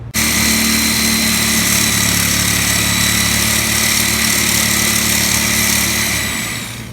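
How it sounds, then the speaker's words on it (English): A Sawzall reciprocating saw cuts through a leaf spring on a 2001 Ram 2500, a loud, steady, buzzing motor drone running unbroken for about seven seconds up close, with no talking. "So I got it with the Sawzall, thankfully."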